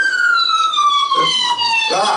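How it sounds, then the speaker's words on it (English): An ambulance siren wails loudly outside, its falling tone sweeping steadily through the whole stretch, with brief background noises near the end. "What's that, an ambulance?"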